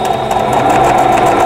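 Close, steady mechanical whir of a sewing machine stitching continuously, with no voices.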